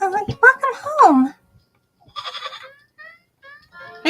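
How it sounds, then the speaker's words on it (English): A goat in the video game Little Goody Two Shoes bleats in two short, wavering calls that follow a brief spoken greeting, then a few fainter high chirps trail off. "Hello, goat."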